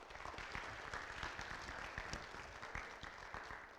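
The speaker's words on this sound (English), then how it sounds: "How about a big round of applause for Mr." Steady audience applause at a school district alumni panel event, dense clapping from a crowd sustained at moderate level throughout with no talking.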